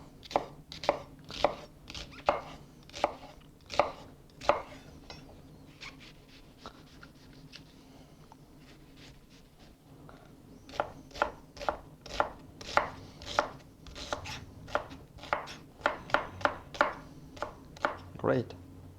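Knife chopping vegetables on a cutting board for a French split pea soup: quick rhythmic close chops in two bursts split by a brief quieter pause, with faint talk underneath.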